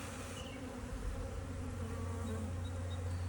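Honey bees buzzing in an opened hive during a spring inspection, making a dense continuous drone that stays close and steady with no voices over it.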